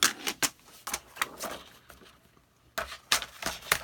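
Scissors or a cutter snip through paper for a folio album, a series of sharp, close cutting strokes with brief pauses between them and no talking.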